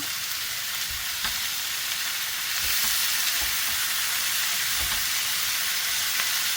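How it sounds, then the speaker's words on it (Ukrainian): Apples stew with sugar in a pan, giving a continuous soft sizzle and bubbling hiss with faint, scattered stirring knocks. It stays close and even throughout, with no voices. "Перемішуємо та тушкуємо. Час від часу перемішуємо щоб водичка випаровувалася."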